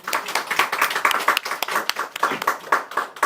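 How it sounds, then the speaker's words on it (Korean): Congregation in a church giving a visiting young man a welcome round of applause during Sunday worship, a dense, steady clapping from many hands lasting throughout with no talk over it. "한번 인사 박수로 환영 한번 하겠습니다"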